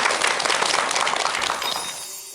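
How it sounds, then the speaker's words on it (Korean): Audience applause greeting a lecturer at the start of a talk on mindfulness, a dense wash of many hands clapping steadily throughout before tapering slightly at the end, with no voices over it. "큰 박수 부탁드립니다."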